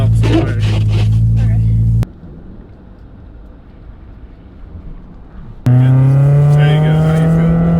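A BMW Z3 spins its wheels in deep snow near a patch of concrete. A loud, high-pitched engine rev roars up close, drops to a quiet idle hum, then surges loud again.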